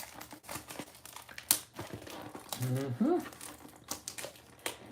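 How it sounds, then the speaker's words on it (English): A ceramic safety knife slits and tears the plastic wrap on a baseball card blaster box, a close crinkling, rustling and ripping that runs through the clip, with a voice speaking over part of it. "We'll open that with my new safety ceramic knife here that is so awesome."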